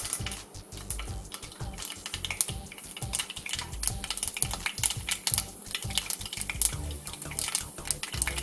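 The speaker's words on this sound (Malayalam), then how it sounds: "കടുക് പൊട്ടി തുടങ്ങുമ്പോൾ അതിലേക്ക് ഉലുവ ഇടാം" Mustard seeds and fenugreek sputter in hot oil for a Kerala-style beetroot pickle. The crackling and popping is dense and continuous, with a close, busy sizzle and no voices.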